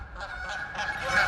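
Geese honk repeatedly in quick, overlapping calls, moderately close and clear over low background noise.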